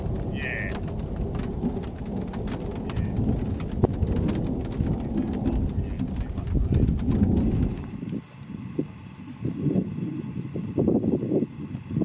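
Heavy rain pours steadily throughout a severe thunderstorm in Condobolin, New South Wales, Australia, with deep thunder rumbling underneath; partway through the roar shifts to a harsher, closer hiss of rain.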